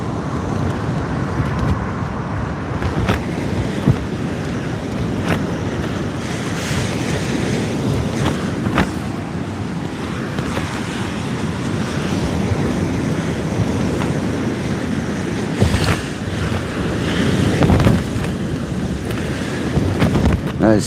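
Gusty wind at sea buffeting a kayak during fishing, a steady loud rumbling roar with surging gusts and occasional knocks and water sounds, close on the microphone throughout.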